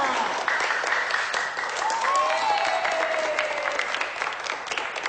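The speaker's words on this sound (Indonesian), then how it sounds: "Kau, mana tepuk tangannya?" Applause from a group, dense and continuous, with a whistle-like tone gliding through the middle and voices mixed beneath.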